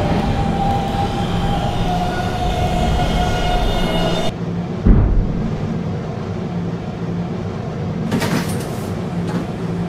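Subway train on the 11 local line running at a steady rumble in a Roblox transit game, with a long tonal whine that cuts off partway, a brief thump, then a short burst of hiss near the end.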